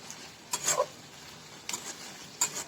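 Onions with ginger garlic paste fry in a pan for an egg bhuna curry, a low steady sizzle under three sharp scraping stirs of a spoon against the pan, close by.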